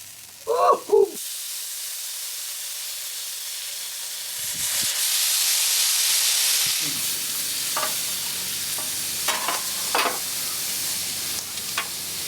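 Miso shrimp in honey sauce sizzling and frying in a pan while being basted, a steady hiss with a few brief clinks and scrapes of the spoon, close and fairly loud.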